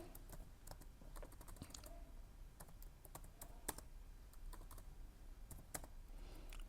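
Computer keyboard typing, a steady run of quick clicking keystrokes that continues throughout at a close, moderate level over a faint background hiss, with no voices.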